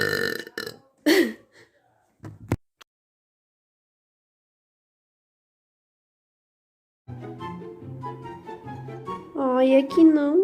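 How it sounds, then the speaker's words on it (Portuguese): Burps from a person making TikTok burp clips: a few short, sharp belches at the start, a long silence, then a long, loud, voiced burp that swells and warbles near the end. "Eu vi bastante gente falando que os meus arrotos são fake"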